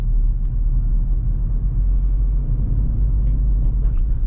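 A Nissan Magnite Turbo CVT drives on a road near Vellore, heard from inside as a loud, steady low rumble of engine and tyres with no voices.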